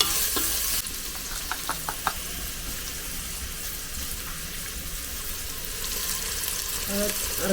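Onion sautés for mutton curry in a pot on a wood-fired stove, a soft, steady sizzle with a few clinking stirs of a spoon near the start, heard close and fairly faint.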